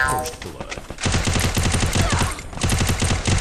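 Rapid UMP submachine gun bursts in the battle royale game Free Fire, two long automatic strings of closely spaced shots with a short gap between, loud and close.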